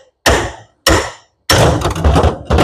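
Hammer blows strike a copper electric motor being scrapped, two sharp metallic thuds followed by a heavier rattling impact and another hit, close and loud.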